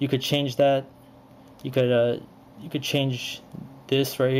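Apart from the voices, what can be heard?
No everyday noise stands out behind the speech.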